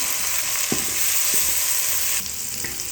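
Onions and tomatoes frying in a pan for bagara rice, a loud, dense, unbroken hiss up close with a few dull knocks of a stirring spoon and a slight drop in intensity near the end.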